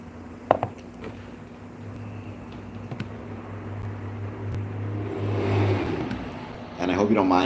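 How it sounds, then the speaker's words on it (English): Cars pass outside, a muffled traffic hum that swells and fades, heard under someone talking indoors, with a louder pass near the end. "hope you don't mind the sound of the cars passing outside."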